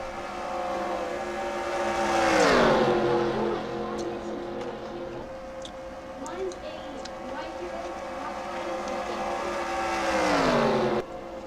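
Stock cars racing at Talladega in the NASCAR Racing 2003 video game, engines droning steadily as cars sweep past with rising and falling pitch, two loud pass-bys standing out, while a commentator talks throughout.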